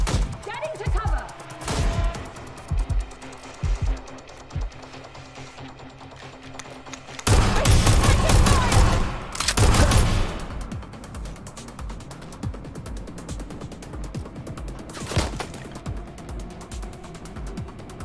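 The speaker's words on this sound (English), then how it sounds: "Shots fired!" Gunfire in a video game shootout: several loud, sharp bursts stand out over a busy clicking, mechanical background, with a sustained heavy volley in the middle and isolated shots later.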